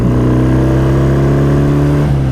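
A BSA motorcycle with a belt-drive primary hums and pulls steadily on a country ride, a loud continuous engine drone with a slight pitch shift near the end.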